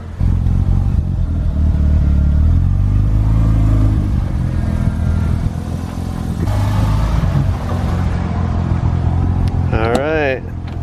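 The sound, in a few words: Mazda RX-7 FD car driving out of the garage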